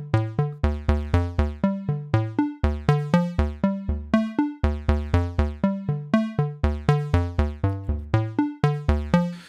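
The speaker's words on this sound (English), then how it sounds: "So you can hear that our little melody, if I can call it that, is kind of got the same vibe. We're randomly adding this octave to it." A synthesizer sequencer melody from a Kontakt synth library runs in A plus B mode with random octave jumps. Plucky tones repeat in a steady, fast rhythm, close and loud, with no voices.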